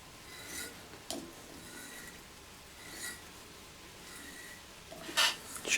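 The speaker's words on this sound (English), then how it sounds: "Just cleaning the threads before I use the puller." Bolt threads on a rusty scrapyard mower being cleaned with a rasping, scraping stroke that comes in a few faint, separate passes, and one sharper burst near the end.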